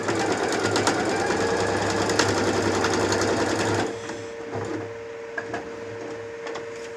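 Sewing machine stitching a seam on a frasqueira bag, running in a steady continuous whir for about four seconds, then stopping and leaving quieter handling sounds.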